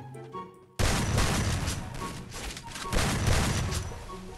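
Loud, dense shotgun blasts from an M1887 in the battle-royale game Garena Free Fire, equipped with an Emerald Power skin, erupt abruptly after a quiet start and continue as a sustained barrage of overlapping shots.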